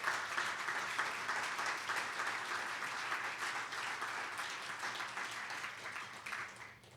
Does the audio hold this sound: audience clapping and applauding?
yes